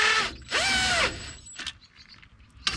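An impact wrench works a lug on a Wells Cargo trailer wheel during a brake and bearing replacement, giving two loud close bursts of whirring rattle, the second about half a second long, followed by quieter clicks and clanks.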